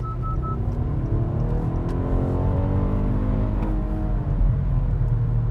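An Acura RLX Sport Hybrid with 377 horsepower and all-wheel drive accelerates hard on the freeway, its engine and road roar loud and steady with tones rising smoothly throughout.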